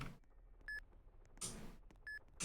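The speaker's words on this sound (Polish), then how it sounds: "Co to tak pika?" Electronic beeps sound in the Roblox Granny horror game, two short high tones about 1.4 seconds apart, faint and clean, among soft thumps and clatter of in-game movement.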